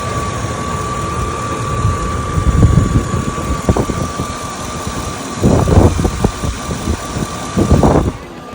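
A car engine idles steadily close by after an alternator replacement, with a constant tonal hum and bursts of rumbling, knocking vibration throughout.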